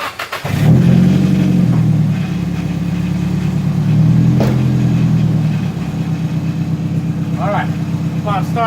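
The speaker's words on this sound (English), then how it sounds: "I'll start up the car up and bring the video over here and you can see it real fast." Nissan S14 with an SR20 engine and Tomei setup cranking and catching, then running loudly at a steady idle with a rattly, pulsing tone, up close.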